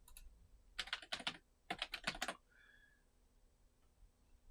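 Quick bursts of typing on a computer keyboard, two close clusters of crisp key clicks separated by a short pause in an otherwise quiet room, followed by a brief faint electronic tone.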